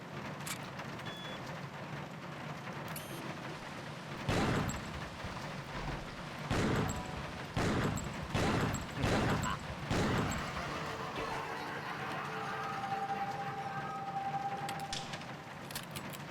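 Gunfire in the video game Killer7: about half a dozen sharp, loud shots in an uneven burst midway, set against a low steady background hum.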